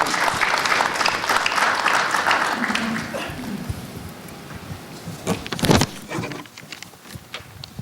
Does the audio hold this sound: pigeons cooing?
no